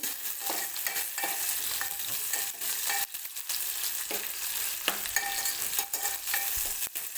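Steady crackling sizzle of aromatics frying in a pan, with intermittent scraping and stirring clatter throughout, close and fairly loud, no voices.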